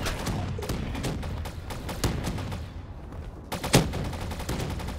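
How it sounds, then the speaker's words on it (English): Rapid, repeated weapon fire from a grenade launcher in a Black Ops 3 Modern Warfare zombies mod, loud dense bursts with a heavier thump near the end. "Now that's a grenade launcher."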